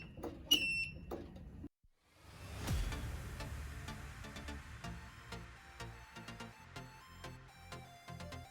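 A truck liftgate's warning beeper sounds in short, sharp electronic beeps at close range, with a clunk and a pause before repeated beeping continues over a hollow mechanical rattle.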